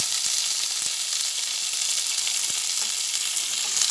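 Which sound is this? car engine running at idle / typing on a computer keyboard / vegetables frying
vegetables frying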